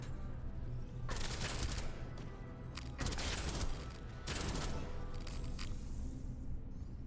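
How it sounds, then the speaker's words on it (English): Many grenades going off in the shooter game Deadzone: Rogue, a dense run of overlapping booming blasts and crackling bursts that comes in waves, loud and continuous, with no voices. "that's so many grenades"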